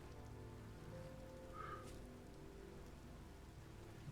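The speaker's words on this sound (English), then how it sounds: "Oh, it's going to rain again." Steady rain falling in the video game Vintage Story, a soft continuous hiss on surfaces with no talk, holding an even level throughout.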